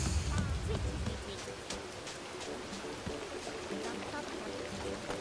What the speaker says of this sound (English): If it's raining at the beach as well.